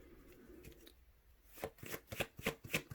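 Tarot cards are riffle-shuffled up close, a quiet handling rustle followed by a string of crisp, rapid flutters and snaps, with no talking.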